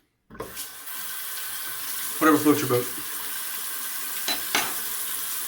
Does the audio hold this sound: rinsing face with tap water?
yes